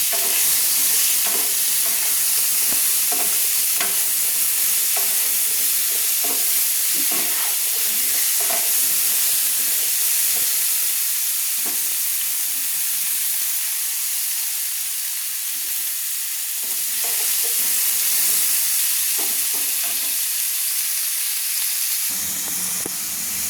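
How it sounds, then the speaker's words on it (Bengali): Potatoes fry in oil in a pan with turmeric, giving a steady loud sizzle and hiss while a spoon scrapes and stirs in irregular clatters, with no talking. "দেখুন আলুগুলো আমার লাল লাল করে ভাজা হয়ে গেছে"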